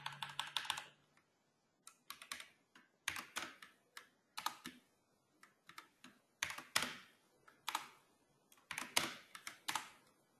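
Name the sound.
typing Python code on a computer keyboard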